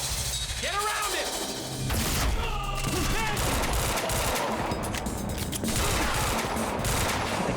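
Gunfire in the video game Quantum Break: rapid bursts of automatic fire, shattering and heavy impacts fill a dense, busy stretch, with voices shouting through parts of the action.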